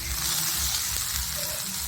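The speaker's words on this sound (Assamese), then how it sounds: "আদা নহৰুখিনিও ভালদৰে গোন্ধটো যোৱালৈকে, কেঁচা গোন্ধ যোৱালৈকে মই ভাজি ল'লোঁ" Ginger garlic paste fries in a pan with a continuous, even sizzle, close up and moderately loud, for a brief stretch with no speech.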